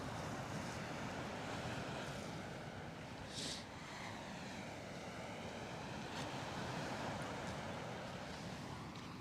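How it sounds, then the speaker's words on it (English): Winter ocean waves rolling onto Coney Island beach, a steady broadband wash of surf with wind noise and a low rumble throughout, continuous and fairly close, no voices. "I want to get right on the water for you guys. So you guys could hear the water."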